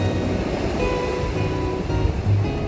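Sea waves wash steadily against the shore beside the Jeju Olle trail near Samyang Beach, a continuous loud surf roar mixed with wind buffeting the microphone.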